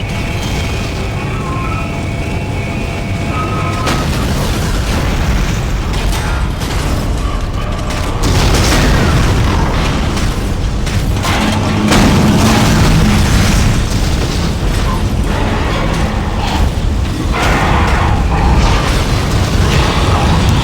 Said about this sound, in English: Collision detected in the main hangar bay.